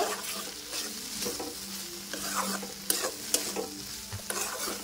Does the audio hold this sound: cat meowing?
no